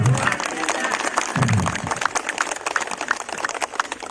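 At a Ramadan charity gathering for orphans, the audience breaks into lively applause, a dense patter of many hands with some sharper individual claps, staying fairly strong throughout while a low voice briefly sounds beneath it.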